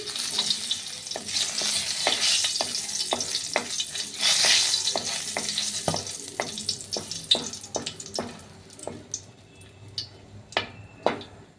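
Two dried red chillies fry in hot oil for a Bengali banana flower and prawn dish: a bright, loud sizzle that settles down while sharp stirring clicks tap against the pan at an irregular pace.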